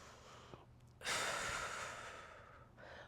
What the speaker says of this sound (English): Big breath here.